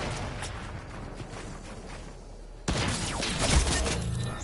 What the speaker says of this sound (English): One guy got sniped over there.